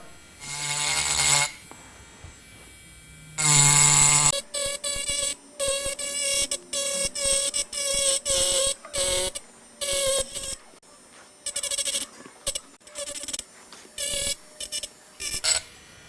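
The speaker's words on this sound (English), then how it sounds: "I'm just engraving some leaves here" A Tork Craft mini rotary grinder whines in short bursts of high-pitched buzzing while engraving leaf details, starting and stopping in an uneven rhythm, close and fairly loud.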